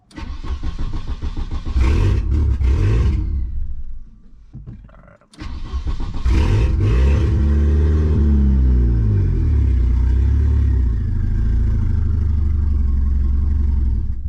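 A turbocharged station wagon engine starts and revs, loud and close, with a brief drop and stumble midway before it roars back into a sustained, heavy rev and rumbling idle, with no talk.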